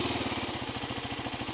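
A Husqvarna Svartpilen 401 single-cylinder motorcycle engine runs at a steady idle just after starting, a close, even, rapid thumping pulse that holds without break and with no talk over it.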